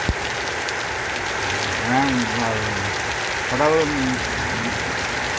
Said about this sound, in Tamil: மழை பெய்து கொண்டே இருக்குது